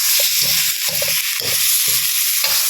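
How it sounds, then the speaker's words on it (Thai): Chunks of snakehead fish stir-fried in a pan with fragrant chili paste, a loud, constant close-up sizzle with rhythmic scraping strokes of the spatula running through it. "เราก็นำปลาท่อนนาของเรานะคะ ลงไปผัดได้เลยค่ะ"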